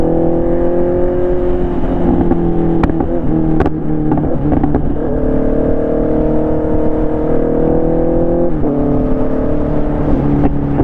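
A Honda CBR650R motorcycle's exhaust roars steadily while riding, a loud sustained engine drone with shifting pitch as revs rise and fall, plus a few sharp clicks.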